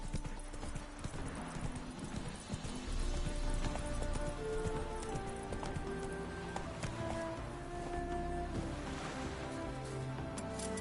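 Roach, Geralt's horse in The Witcher 3 video game, trots along with a steady clip-clop of hooves throughout, set against game music and ambient background sound.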